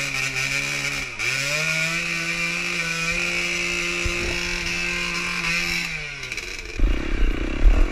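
Dirt bike engines rev hard and sustained in mud during a rainy enduro race, a loud, buzzing chainsaw-like drone that holds its pitch, dips once and rises again, then breaks into rougher clattering revs near the end.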